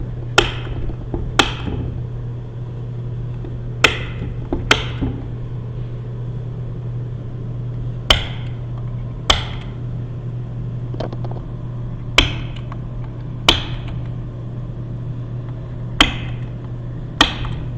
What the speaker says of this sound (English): I'm going to use a center punch, and I'm going to punch where I want to drill.